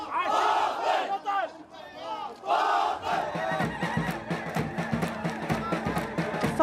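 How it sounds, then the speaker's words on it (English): Defiant protest crowds in Baghdad chanting and shouting in unison, first swelling rhythmic group cries, then a steady rhythmic clapping-like beat with many voices, loud and close. "Defiant crowds have danced and chanted in the face of Iraqi forces"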